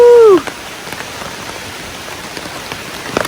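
Rain patters steadily on a Dragoon Ridgeback bivy-style tent, a dense even wash of drops after a brief tonal sweep at the very start.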